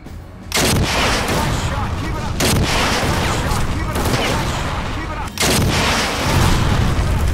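Gunfire in the video game Secret Service, dense loud bursts of shots and booms that run almost continuously, with brief gaps between volleys.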